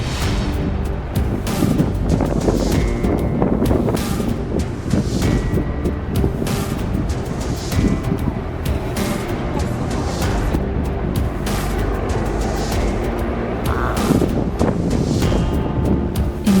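Strong wind and heavy waves on the North Sea, a loud continuous roar of gusting wind buffeting the microphone with surging water beneath, steady throughout.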